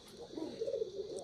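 Pigeons on a pigeon farm coo softly in a low, murmuring call that swells briefly, quiet and close with faint background hiss.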